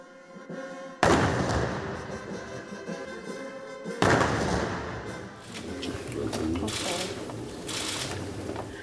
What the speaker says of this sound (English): The visit began with a military parade and gun salute